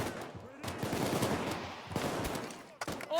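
Rapid automatic gunfire during a heist in the video game Payday 2, sustained bursts with brief pauses, loud and close, with no talk over it.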